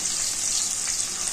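Capsicum fries in a pan for aloo paratha, a steady close hiss of sizzling oil running continuously without pause or talking.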